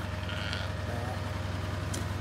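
Sheep in a farm pen during lambing preparations let out a few faint bleats over a steady low rumble, with one sharper call near the end.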